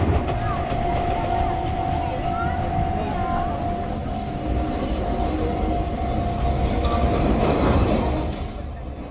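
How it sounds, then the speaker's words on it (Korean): An Enoden electric train passes a seaside railway crossing, its steady rumbling roll and rail clatter swelling near the end, with a constant crossing tone, background chatter and people speaking throughout. "저는 건널목 밖에서 푸른 바다를 배경으로 지나가는 에노덴 전철의 모습을"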